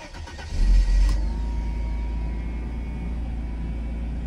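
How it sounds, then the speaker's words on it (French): Cold start of a Mercedes SL280 R129: a short starter whirr, the engine catching with a loud surge, then settling into a steady close idle rumble. "premier démarrage à froid, elle marche bien"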